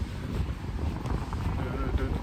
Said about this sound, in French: Désolé, c'est venteux.